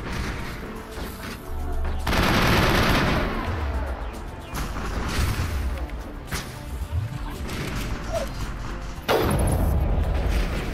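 Gunfire in the sci-fi shooter game Mass Effect: several loud, sharp bursts of shots and booming impacts spread across the stretch, with dense crackling between them and no talk.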